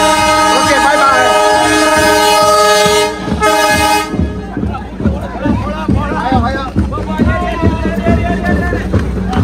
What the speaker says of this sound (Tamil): பட்டுக்கோட்டை பிளாட்ஃபார்மை விட்டு மெல்ல நகர்கின்றது